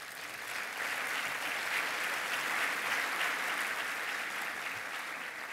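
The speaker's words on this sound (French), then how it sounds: "Ils méritent nos applaudissements." An audience in Senegal bursts into sustained applause for the country's reference health laboratories, a dense, even roar of many hands clapping that swells and holds for several seconds.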